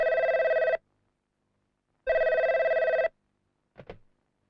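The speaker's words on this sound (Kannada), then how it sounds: "ರಂಗಣ್ಣ, ಫೋನ್ ನೋಡು." A telephone rings in a Kannada film home scene, two distinct loud electronic trills separated by a pause, close and clean, followed by a brief clatter as the handset is picked up.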